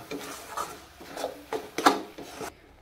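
Stuffed kakrol (spiny gourd) with coriander leaves frying in a pan, a utensil scraping and stirring in a series of rough rasping strokes that grow louder toward the end, with no talking.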